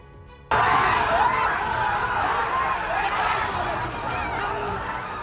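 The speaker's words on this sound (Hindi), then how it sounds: "देखा जा सकता है कि बुजुर्ग और युवा पुलिस पर पथराव कर रहे हैं।" A dense crowd roars and shouts continuously during a violent clash in which people throw stones at police at a farmers' protest, with loud, steady hubbub and scattered impacts and cries.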